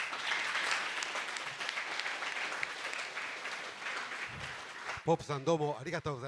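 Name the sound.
audience applause after a seminar speech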